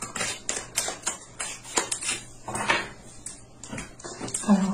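Oracle cards shuffled and laid down on a table, giving an uneven series of crisp snaps, flicks and soft slaps close up, busier at first and then spaced out.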